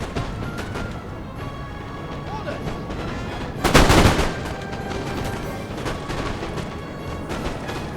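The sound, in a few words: musket infantry firing volleys, Napoleon Total War video game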